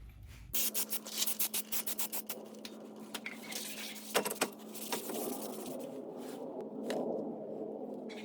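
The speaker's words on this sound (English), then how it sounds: "we're gonna go ahead and spray brake parts cleaner on the surfaces to get the coating off." Brake parts cleaner hisses from an aerosol can in a series of short bursts and then longer sprays onto the rear brake rotors of a 2014 Chrysler 200 during a pad and rotor replacement, close and fairly loud, with a steady background hum.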